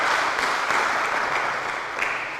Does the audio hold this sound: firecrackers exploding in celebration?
no